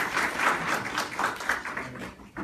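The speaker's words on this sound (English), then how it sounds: "Now you can applaud." An audience bursts into applause, a brisk patter of many hands that holds, then thins and drops away near the end.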